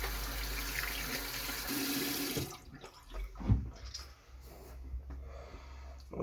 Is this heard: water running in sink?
yes